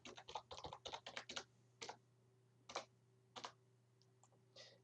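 Password keyed in on a computer keyboard: a quick burst of close, crisp key clicks followed by several slower, separated taps, alone in a quiet room with a faint steady hum.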